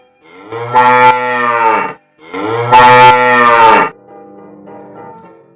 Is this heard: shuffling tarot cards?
no